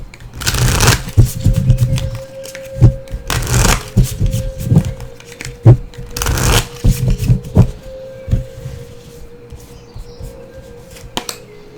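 A deck of Angels and Ancestors Oracle cards by Kyle Gray is shuffled close by in several loud riffling bursts, separated by softer taps and handling clicks as the cards are squared.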